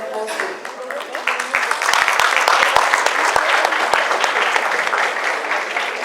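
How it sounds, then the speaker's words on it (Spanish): A seminar audience applauds at the close of the event, a sustained, dense clatter of many hands clapping nearby that stays strong for several seconds. "Lo grande de este aplauso no es lo intenso"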